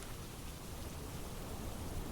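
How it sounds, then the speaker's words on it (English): Steady rain pours down in the video game Timemelters, a dense, even wash of noise with a low rumble underneath and no talking. "It's raining."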